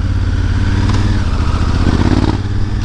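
A Honda Africa Twin DCT motorcycle runs loud and close, its engine droning steadily with a brief rise and dip in pitch as the dual-clutch gearbox shifts on its own while riding.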